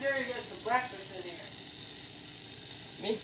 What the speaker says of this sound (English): So you can hear the sizzling really good